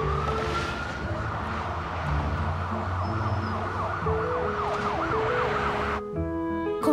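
An ambulance siren wails loud and near in a steady, repeating up-and-down cycle, running continuously over a low rumble of traffic before cutting off abruptly near the end.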